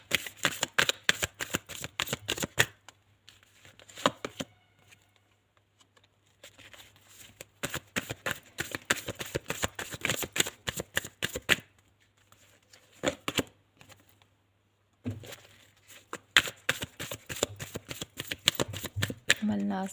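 Tarot cards are shuffled in repeated bursts of rapid riffling and flicking, close and crisp, with short pauses between bursts and someone speaking at times.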